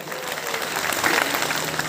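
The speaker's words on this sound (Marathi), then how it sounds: "जोरदार टाळ्यांचा गजर या ठिकाणी नक्कीच झाला पाहिजे" An audience at a Ahilyadevi Holkar birth anniversary event gives steady applause for a young folk singer, a sustained wash of clapping at moderate loudness throughout.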